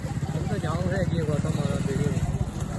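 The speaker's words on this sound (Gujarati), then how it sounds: "એક્ટિવા ચાલુ કરો" A Honda Activa scooter engine puttering in a steady, low, rapid rhythm, close by, with voices over it.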